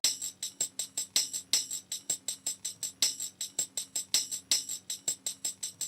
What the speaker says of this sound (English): I literally just chopped it up a bit to add a little bit more bounce to it